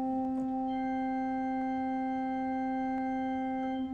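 Sustained pipe organ chord from a single mixture stop, three ranks of pipes sounding together as harmonics over a fundamental, a steady loud tone held without break and heard alone.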